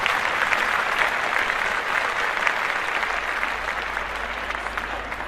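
A small group applauds steadily, close and continuous, the clapping slowly easing off as it goes on.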